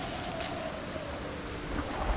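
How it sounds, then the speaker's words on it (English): Steady rain and thunderstorm in the survival video game Project Zomboid, a dense constant hiss of rainfall with low thunder rumbling underneath, heard alone for a couple of seconds. "I'm scared of the rain, scared of the storm"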